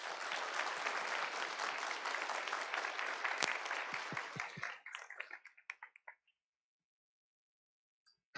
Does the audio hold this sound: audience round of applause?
yes